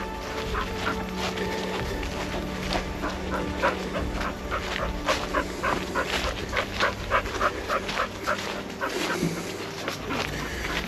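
A dog whimpers, yips and barks in short repeated bursts close by on a historic walking track near an old mine site, with outdoor ambience and a person calling to it.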